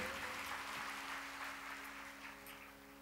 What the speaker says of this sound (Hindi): अरे वाह मैया को तो सब यार जोरदार तालियां बजाई अपने लिए